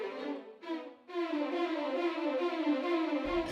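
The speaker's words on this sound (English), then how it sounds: "Let's hear the violin figure 16th note down." Sampled violins play a quick descending sixteenth-note figure, the notes stepping down in close, even repetitions, clear and moderately loud with nothing else around them.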